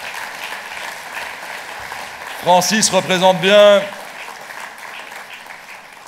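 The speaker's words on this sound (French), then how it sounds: "Merci d'applaudir Francis Delperrey," A party audience at a New Year's wishes gathering in Luxembourg province applauds Francis Delperrey, a soft continuous patter of clapping beneath a voice speaking briefly in the middle.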